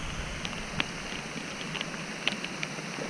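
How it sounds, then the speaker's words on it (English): Rain patters steadily in a wet, cold Bavarian countryside during a cycling tour, a soft broadband hiss with occasional sharper drops striking nearby surfaces close to the microphone, no voices. "It's raining in my bag."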